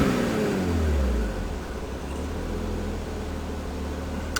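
A 1994 Toyota Supra with a PHR single turbo and a mild HKS cam rumbles with a low, steady engine grumble that swells briefly at the start, then settles into an even idle-like drone with no talking.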